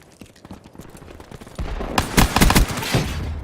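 Gunfire in the video game Black Ops 3, rapid automatic bursts that start as a quieter rattle and then jump to loud, dense volleys of shots in the last half.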